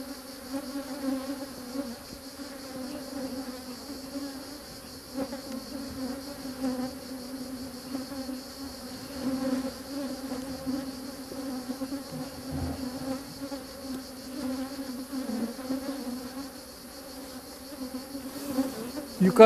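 Honey bees on a hive frame buzz steadily up close, a dense droning hum with shifting pitch that carries on throughout without any talking.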